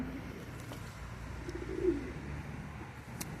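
Domestic racing pigeons coo faintly in a loft, one soft low call rising briefly amid a quiet background hiss and a few small clicks.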